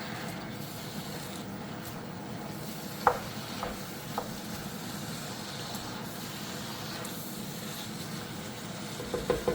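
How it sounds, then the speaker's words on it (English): Vegetables sweating down in a pan for chili con carne make a soft, steady low sizzle, fairly quiet and close, with a few light clicks of stirring against the pan. "we've got some additional vegetables in the pan, and we want to make sure we give those an opportunity to sweat down"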